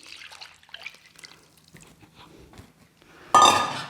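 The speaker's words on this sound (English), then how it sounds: "I'll just pour in the water and yeast." Water and yeast poured into a bowl of flatbread dough mix with salt for Lebanese za'atar manoush, heard as a brief loud splash near the end after soft kitchen clinks and drips.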